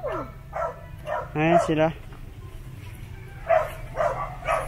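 A dog barks in a short burst of several sharp barks at mid-distance, with a few more yips later, while people talk in Filipino around it.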